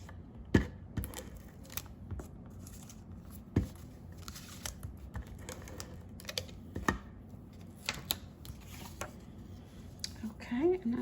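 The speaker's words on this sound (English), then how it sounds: "I just hate having to cut into that beautiful paper" Patterned paper being cut for a papercraft project, with short crisp snips and rustles spaced through the clip at close range, and a faint voice in the background near the end.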